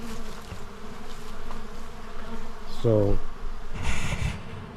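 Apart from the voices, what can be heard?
robber bees buzzing around a beehive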